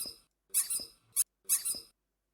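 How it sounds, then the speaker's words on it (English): Three short high-pitched squeaks used as a game sound effect, the first and last longer and the middle one brief, each standing alone against silence. "We'll just only have 3 squeaks."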